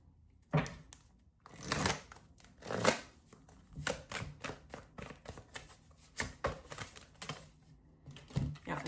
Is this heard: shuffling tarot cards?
yes